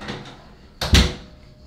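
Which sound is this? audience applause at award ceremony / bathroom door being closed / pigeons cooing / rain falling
bathroom door being closed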